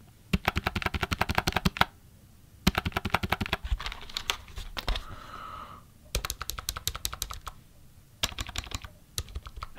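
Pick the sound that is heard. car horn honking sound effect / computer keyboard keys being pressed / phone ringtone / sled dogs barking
computer keyboard keys being pressed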